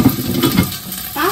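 Sliced luffa gourd stir-fries in a hot pan with a steady close sizzle, scraping and clattering under it and a brighter hiss rising near the end.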